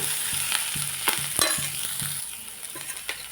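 Chopped onion and green chili fry in oil over a full gas flame, a bright steady sizzle broken by repeated scraping stirs of a spoon against the pan, near and without talk.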